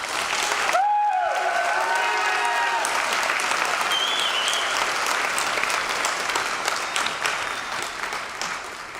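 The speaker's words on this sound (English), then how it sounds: "Can we have another round of applause for Joseph Bernardo and Gitana Carcamo-Guillory?" Applause rises from a large audience at a high school graduation ceremony, steady and full throughout, with whoops and shouted cheers over it near the start.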